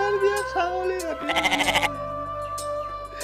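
A goat bleats in a quivering, rapidly pulsing cry, loud and close, among spoken voices and music.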